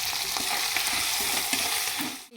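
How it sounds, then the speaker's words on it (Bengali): Whole cumin crackles in hot oil alongside a fried fish head, with bay leaves and dried chillies already in the pan, making a loud, dense, continuous sizzle that ends abruptly. "এখন আমি দিয়ে দেবো সামান্য একটু গোটা জিরে।"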